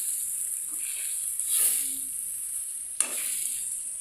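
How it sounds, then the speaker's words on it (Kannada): Masala with grated coconut fries in oil for pea sambar, a soft steady sizzle with two brief louder bursts of hissing as the pan is stirred, no voices. "ಈ ರೀತಿ ಮಸಾಲೆ ಫ್ರೈ ಮಾಡಿ ರುಬ್ಕೊಳ್ಬೇಕು."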